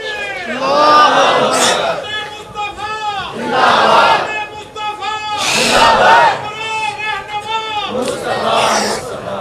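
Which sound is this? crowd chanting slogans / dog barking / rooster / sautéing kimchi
crowd chanting slogans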